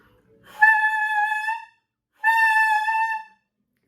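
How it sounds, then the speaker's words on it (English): Two sustained saxophone notes, each begun with a soft breath-started air attack, swell in gently and hold steady with a pause between them, close and clear with no talking. "Your air attack pretty much sounds like this"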